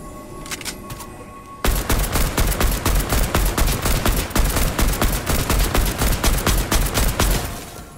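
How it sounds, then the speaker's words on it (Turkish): Rapid gunfire from the video game Fortnite: a dense burst of many close, loud shots in a fast steady rhythm, starting abruptly after a quieter opening and running continuously to the end. "Abi bir iki silah sesi duyuyorum."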